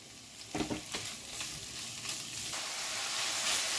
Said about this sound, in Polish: Dodajemy teraz wołowinę i obsmażamy jakieś 2 minuty.